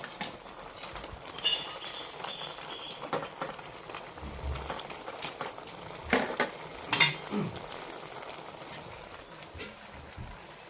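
Lentil fritters going into a pan of simmering amra curry give soft bubbling and sizzling with a few louder stirring clanks and splashes, close by and uneven, with no talking.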